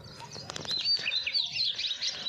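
A sparrow chirps in the morning with quick, high, twittering calls over a soft, low background. The calls are close and moderately loud and come in a lively, uneven run.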